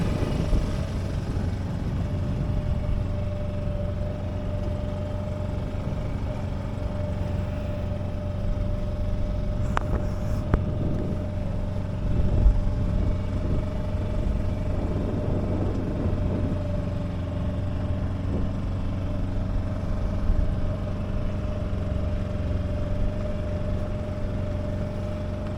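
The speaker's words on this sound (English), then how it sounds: "Just using the outboard to clear." A steady engine drone with a constant hum runs throughout, a junk-rigged sailboat's outboard motor idling along at low speed while clearing a mooring field, with faint clatters mixed in.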